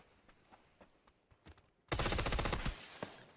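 Rapid SMG gunfire from the PUBG video game erupts loudly midway as a dense, sustained burst of shots, preceded by fainter scattered in-game noises.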